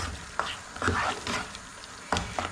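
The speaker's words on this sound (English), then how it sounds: "I'm now going to put the seafood mix in there" Prawns, squid rings and mussels drop into a hot pan with a few sharp clatters and bursts of sizzling, then a quieter hiss, close by and without talk.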